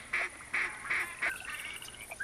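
Ducks quack in theHunter hunting game, four evenly spaced quacks followed by a rising honking call, moderately loud over a soft outdoor ambience.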